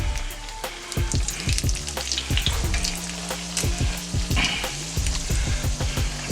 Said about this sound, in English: Get them frying up.